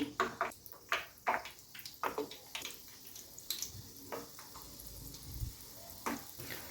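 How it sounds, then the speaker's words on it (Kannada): Vada dumplings go into hot oil over a medium gas flame, making a faint, crackling sizzle with a run of sharp pops and bursts that gradually settles into a quieter bubbling. "ಎಣ್ಣೆ ಬಿಸಿ ಆದಮೇಲೆ ಗ್ಯಾಸ್ನ ಮೀಡಿಯಮ್ ಫ್ಲೇಮ್ ಇಟ್ಕೊಂಡ್ಬಿಟ್ಟು ನಾವು ಮಾಡ್ಕೊಂಡಿರೋ ವಡಗಳನ್ನ ಈ ರೀತಿ ಬಿಡಬೇಕು"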